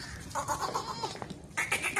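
A long-eared Makhi Cheeni goat bleats in a few wavering, nasal calls close by, with short pauses between them and faint background noise, no talk.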